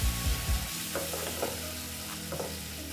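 Fried teasel gourd is stirred with mustard and poppy seed paste in a pan: a few soft thuds of the spatula, then a steady low sizzle with light scraping strokes.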